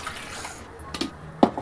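Water that had been used to rinse the mixer being poured into a pan of green mung bean curry, a soft running trickle followed by a couple of brief splashy glugs near the end.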